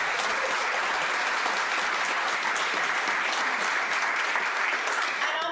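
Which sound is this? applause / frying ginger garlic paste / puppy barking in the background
applause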